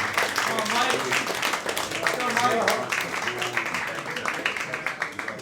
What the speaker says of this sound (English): let's keep the clap going for Mike Morrison